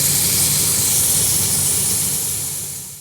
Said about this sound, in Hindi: सबसे पहले अगर इसमें हम प्याज फ्राई करेंगे लाइट ब्राउन से